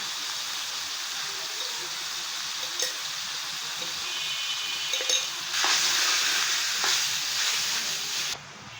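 Chicken mince for momo filling frying with black pepper in a pan, a steady close sizzle with intermittent scraping and stirring clicks that grows louder midway and stays fairly loud throughout.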